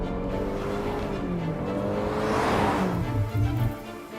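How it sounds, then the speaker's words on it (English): A VinFast car speeds up ahead of a brake test, its engine tone climbing steadily over a continuous road and wind roar, heard from close by. "I'm gonna speed up. We're gonna do a bit of a brake test again."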